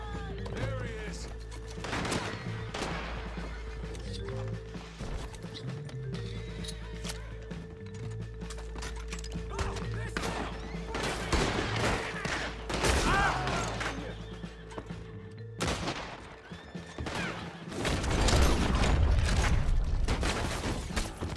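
Bursts of gunfire ring out in Red Dead Redemption 2 amid a horse's whinny and hoof clatter, with shots cracking repeatedly at irregular intervals over a low in-game rumble.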